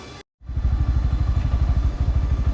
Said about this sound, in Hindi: घर से निकल रहे हैं, बाइक स्टार्ट हो गई।